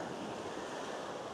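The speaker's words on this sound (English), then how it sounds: "currently the waves are crashing in front of me" Ocean waves crash on a seashore, a continuous loud wash of surf with some wind noise and no voices.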